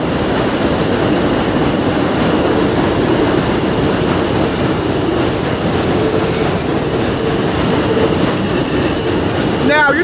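A train rumbles past at close range, loud and continuous, with a dense clatter of wheels on the rails and a brief squeal near the end.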